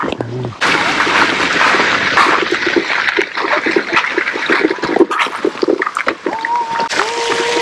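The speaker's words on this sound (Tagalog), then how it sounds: "Ayan yung fountain, no?" A park fountain splashes and gushes steadily, loud and close, with a voice talking over the water and a few short tonal calls near the end.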